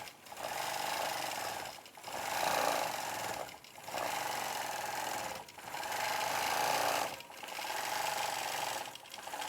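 A sewing machine quilting half-circle stitching on an embroidery quilt block, running in rapid whirring bursts about two seconds long separated by brief pauses, close and moderately quiet with no talk.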